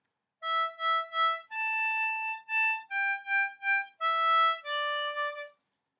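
Solo harmonica plays the opening melody of a Christmas song in bright repeated blown notes and held tones, close-miked and steady with no voices over it.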